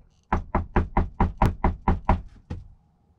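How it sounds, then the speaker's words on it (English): Knocking on an RV door: eight quick, evenly spaced hard raps followed by one final knock after a short pause, loud and close, then silence. "You get a knock on the door."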